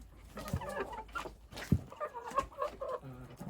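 Young roosters raised for meat eat feed close by, giving scattered soft clucks and murmuring calls with a few sharper pecking taps, irregular and moderately quiet.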